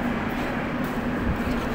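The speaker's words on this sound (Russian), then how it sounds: "На красной ветке мы ждем наш поезд, когда он там прибудет" A Saint Petersburg metro train rumbles steadily nearby on the red line with a low mechanical hum, a continuous rolling roar of rail noise.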